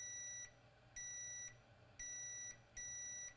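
A multimeter in diode mode beeps steadily while probing a shorted MacBook M1 A2338 logic board, sounding four sustained high-pitched tones of roughly half a second each, separated by brief gaps, clear and close.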